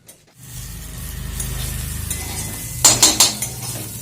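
Neem leaves fry in a pan with a steady soft sizzle, then a quick burst of three metal clinks as a utensil stirs and scrapes the pan.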